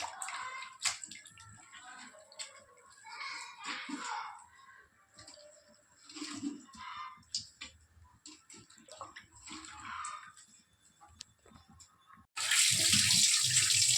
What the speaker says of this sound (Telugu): ఆలును కూడా మనం ఇలా చక్కగా క్లీన్ చేసుకోవాలండి